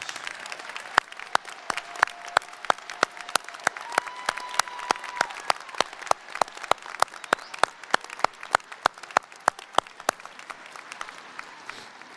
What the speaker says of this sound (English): audience, please join me in applauding these outstanding scholars